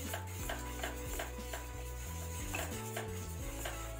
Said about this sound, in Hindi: अच्छे से मिक्स कर लें आप इसे